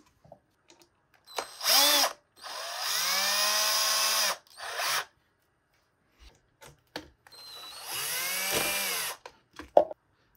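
A power screwdriver drives screws into a 3D-printed 360 timelapse dolly. Two long, whining bursts with rising pitch, several seconds apart, stand out against near silence, with short clicks and handling noises between them.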